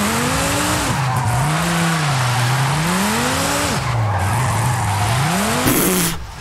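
A car drifting in Forza Horizon 5 squeals its tires loudly and continuously, the pitch sliding up and down in long wavering arcs over a steady engine drone.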